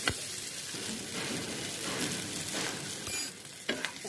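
Oil sizzles steadily as green chilies and garlic fry, broken by a few scraping stirs and knocks of a utensil against the pan.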